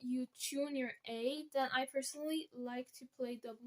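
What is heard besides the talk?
No everyday noise stands out behind the speech.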